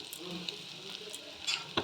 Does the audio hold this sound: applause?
no